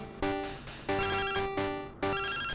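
Chiptune phone ringtone from the Game Boy Color game Pokemon Crystal, a bright electronic melody chirping in three repeated bursts, loud and alone.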